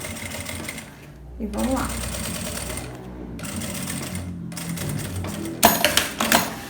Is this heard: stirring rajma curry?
no